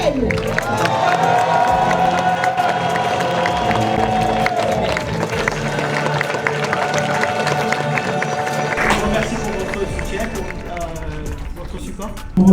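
An audience in a large hall at a startup competition final at the Grand Rex in Paris applauds and cheers over sustained music, a loud, steady wash of crowd noise lasting throughout with voices mixed in.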